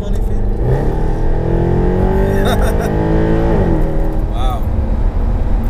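A tuned Mercedes C63 AMG with its big 6.3-litre engine revs hard from inside the cabin, the loud engine note climbing steadily and dropping away as people talk over it.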